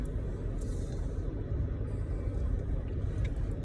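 A car rolling down a street on a morning coffee drive, heard from inside as a steady low engine and road rumble with faint higher noise, no voices.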